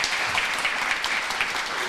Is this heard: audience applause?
yes